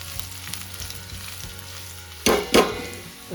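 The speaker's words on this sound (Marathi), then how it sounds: "आपण कांदा चांगला भाजून घेतो" Onion frying in a pan for a Konkan recipe, with a steady close sizzle and two loud bursts of stirring or spattering near the end.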